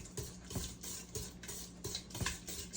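Egg, oil and sugar for a carrot cake batter are stirred by hand in a bowl, giving faint, rhythmic clinking and scraping strokes heard close and quiet, with no talking.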